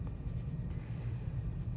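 A hard lead pencil shading very lightly across paper, a soft continuous scratchy hiss that holds steady throughout, close up and quiet with no talking.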